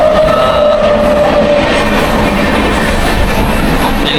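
A crowded Mumbai local train rolls past loudly and close by, a continuous heavy rumble and rattle, with a brief high tone at the start.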